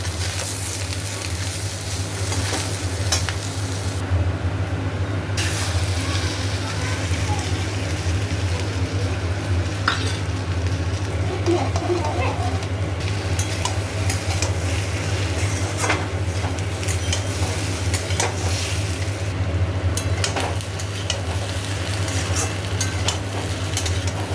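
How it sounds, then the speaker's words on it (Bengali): Potatoes fry with onion and egg in a pan, giving a steady soft sizzle with occasional stirring scrapes, fairly quiet and continuous throughout, with a low background hum underneath. "এবার পেঁয়াজ দিয়ে ভালো করে একটুখানি ভালো করে ভাজবো"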